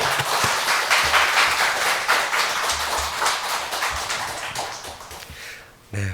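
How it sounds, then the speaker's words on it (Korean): A church congregation claps together to welcome a missionary speaker, bright dense clapping from a crowded room that fades after about five seconds before a brief sound at the end. "우리 나오실 때 박수로 한번 환영해 주시면 감사하겠습니다"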